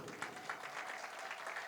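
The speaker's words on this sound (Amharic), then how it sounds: "አጨብጭቡ።" Guests at a wedding celebration clap together in a soft, scattered round of applause, fairly distant and low in level, with no talking over it.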